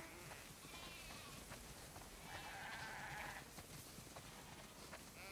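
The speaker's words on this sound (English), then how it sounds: "Wow, that's a lot of sheep." Sheep in the video game The Last of Us Part II bleat faintly over a steady hiss of rain or ambient noise, with one longer wavering bleat near the middle.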